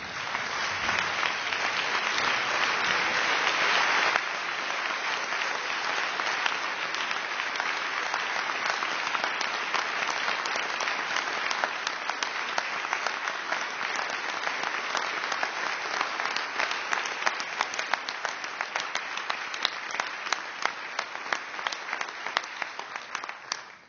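A workplace audience claps steadily for an employee's 20-year Walmart service milestone, dense sustained applause that stays loud throughout and thins slightly into more distinct individual claps near the end.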